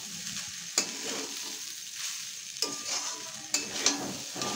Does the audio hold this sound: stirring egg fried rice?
yes